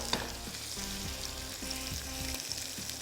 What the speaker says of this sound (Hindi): वापस थोड़े से और प्रॉन जो हमने दूसरी किस्त इसकी रखी हुई थी वो डाल देंगे और उनको कर लेंगे फ्राई